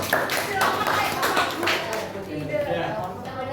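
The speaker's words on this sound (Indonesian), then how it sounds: "Kita kasih semangat dan tepuk tangan buat Fani." A class claps for a student during a poetry lesson in a Grade 10 classroom, a burst of lively near clapping that thins out over a few seconds while voices talk over it.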